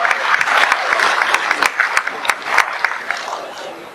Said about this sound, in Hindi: मैं आप लोगों की गर्मामयी दो सीले तालियों के बीच में मैं बुलाने जा रहा हूँ